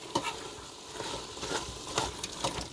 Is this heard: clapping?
no